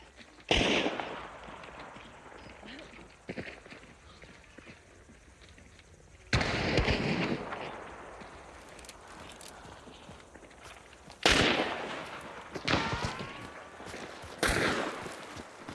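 Gunfire in the video game Hunt: Showdown: four loud, well-spaced shots, each a sharp crack followed by a long reverberant tail that fades before the next.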